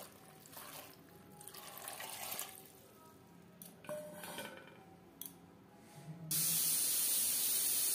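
Water splashes and pours into a pot of peeled, cut potatoes for a prawn and young jackfruit curry, a steady irregular wash building then ending in a louder closing burst, with no talking.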